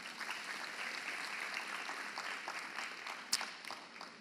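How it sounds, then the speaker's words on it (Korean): Audience at a special lecture on AI and the Korean legal profession applauding, a steady, moderately distant patter of many hands with one sharper clap near the end. "그거에 동의하면 박수 부탁드립니다"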